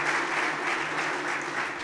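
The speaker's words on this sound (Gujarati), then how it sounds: "જોરદાર તાળીથી વધાવીએ" Steady applause from a seated audience at a community talk program in Surat, with continuous dense clapping held at an even level.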